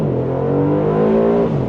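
Aston Martin DB12 Volante with its exhaust in the sportiest setting accelerating hard, a loud, close engine note rising steadily through the rev range for under two seconds.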